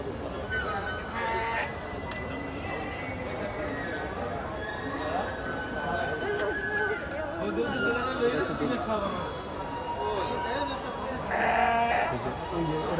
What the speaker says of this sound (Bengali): এখানে কিছু ভেড়া আছে